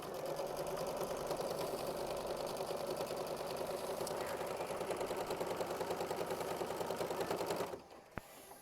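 A sewing machine runs continuously, stitching a quilt block with a fast, even rattling hum for several seconds before stopping abruptly, followed by a brief click.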